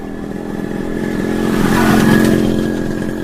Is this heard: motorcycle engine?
yes